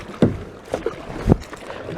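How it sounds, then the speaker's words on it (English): A kayak paddle dips into the water three times in a steady rhythm, each stroke a close, soft splash and swish against faint wind noise. "Kayaking is definitely a good workout."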